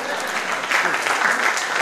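An elderly audience at a Gujarati humour award event claps in a dense, sustained burst of applause, close and loud, with voices mixed in.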